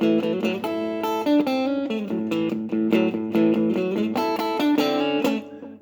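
A typical rock and roll guitar riff runs continuously for several seconds, its repeated picked notes and double-stops pulsing at a steady, driving rhythm, played alone without speech.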